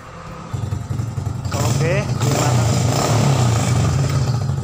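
A Honda Supra motorcycle engine idles, then revs up after a throttle adjustment, its loud, steady, throbbing rumble filling most of the clip while someone speaks briefly over it.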